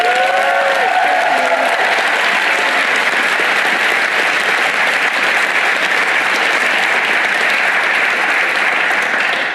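A packed House of Commons chamber at the opening of the UK Youth Parliament 2017 breaks into steady, loud applause with some cheering that holds for the full stretch.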